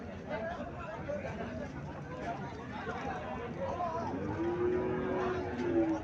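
A local desi milk cow, a Holstein cross, gives a long low moo late in the clip against murmuring voices and outdoor market babble.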